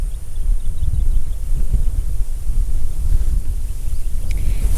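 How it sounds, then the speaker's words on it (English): Breezy wind blows across a countryside rice field, a steady low rumble of gusts buffeting the microphone throughout, with no voices. "It's a beautiful countryside, guys. Very breezy."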